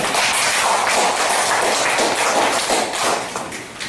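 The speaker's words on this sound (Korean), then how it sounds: "박수 한번 쳐드리겠습니다" A village community meeting audience applauding steadily, dense overlapping claps at a loud, even level that tapers slightly near the end.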